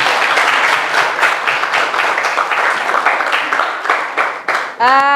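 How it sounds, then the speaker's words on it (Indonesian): A classroom of students applauds after a classmate reads a poem aloud in an Indonesian language lesson, a loud, dense burst of clapping for several seconds before a voice cuts in at the end. "Tepuk tangan dulu untuk Nadia."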